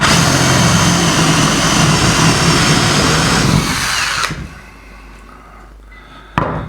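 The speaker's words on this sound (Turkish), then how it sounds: "Matkap ucu arkadan çıkıp masaya zarar vermesin diye aşağıya da bir takos parçası koyuyorum ve uygun baskıyla deliyorum" A loud electric drill whines steadily for about four seconds, boring a hole with a wood block underneath, then cuts off, leaving quiet room noise and a single knock near the end.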